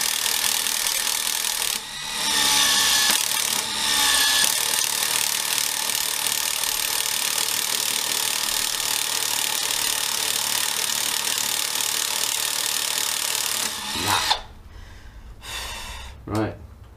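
A Milwaukee 12-volt drill drives a DeWalt bit into wood with a loud, sustained whine for about twelve seconds, then stops abruptly. A few short bursts follow, and someone speaks briefly.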